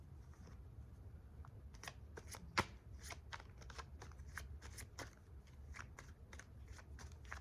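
Tarot cards are shuffled up close, a quick run of crisp flicking riffles and soft slaps over a quiet room, with one sharper click partway through.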